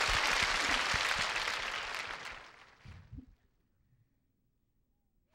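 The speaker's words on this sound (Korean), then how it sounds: "에이, 박수." Studio audience at a Korean Saturday night music show breaks into loud, dense applause that carries for about three seconds, then thins and fades into near quiet.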